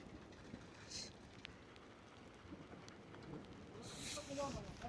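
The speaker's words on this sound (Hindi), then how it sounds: "फिर बारिश शुरू हो चुकी है," Steady rain patters and hisses across the whole stretch on a mountain route, a dense wash of drops with faint scattered taps, growing slightly heavier toward the end.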